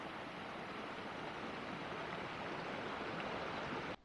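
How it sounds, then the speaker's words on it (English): Hanson Creek in Idaho's Seven Devils backcountry of Hells Canyon, where water rushes and burbles in a steady, full broadband wash that stays close and constant until an abrupt stop, with no talking. "Crossing Hanson Creek."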